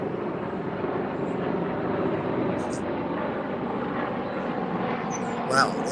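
A helicopter's steady drone rumbles overhead throughout, broad and constant, with small clicks and a brief bump near the end.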